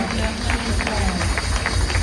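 An audience at a live airport welcome gathering claps and cheers as guests come forward, a steady dense wash of applause and crowd noise with a voice over it.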